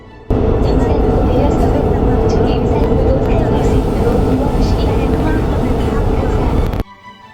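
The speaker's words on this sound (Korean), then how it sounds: "오후에는 또 출근을 하러 지하철을 탔습니다" Interior of a moving subway train during a ride, with a steady loud rumble of wheels and motor filling the whole stretch and some faint murmuring voices in the carriage before it cuts off.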